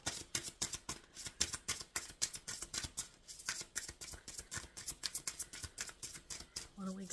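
Rapid, crisp riffling and flapping of tarot cards being shuffled, a continuous rhythmic patter close to the microphone.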